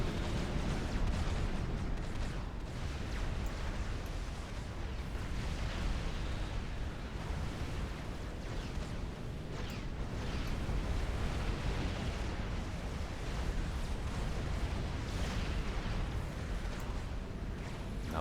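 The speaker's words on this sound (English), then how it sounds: "2 functional artillery pieces now. There we go for Nexus, working on a 3rd. At some point they'll reach critical mass and these shields will cease to hold up under the barrage" Artillery barrage pounds shielded positions in the Supreme Commander strategy game, a continuous dense rumble of distant blasts rolling on without pause.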